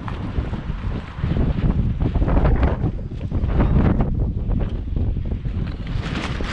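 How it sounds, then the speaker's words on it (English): Loud gusting wind buffets the microphone in a continuous roar, swelling and easing over several seconds. "It's windy, very windy."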